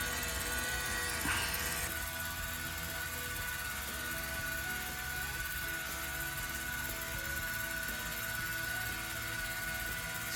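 A Hot Toys The Bat 1/12 deluxe toy's small electric motor spins its counter-rotating propellers with a steady, close whirring hum and a thin whine held at an even level throughout.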